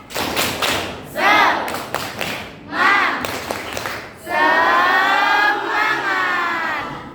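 A group of schoolchildren in a classroom claps in a quick rhythmic pattern with thumping beats, broken by short bursts of voices chanting along.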